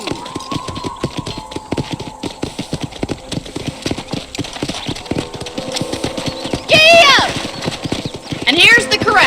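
Hooves clip-clop in a steady rhythm with a horse neighing loudly near the end in the video game Red Dead Redemption, sounding synthetic, while a person talks over it.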